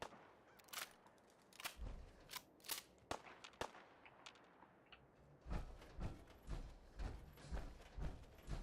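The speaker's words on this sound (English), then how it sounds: "There's someone shooting," Gunfire in the game Fallout 4: sharp single shots at an irregular pace, fairly faint and somewhat distant, over a low background rumble.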